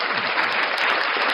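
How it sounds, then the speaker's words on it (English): A brief round of applause on a podcast: thick, uniform clapping at steady volume that lasts just over a second, with no voices on top. "We'll give you another applause too"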